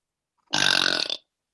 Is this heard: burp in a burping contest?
yes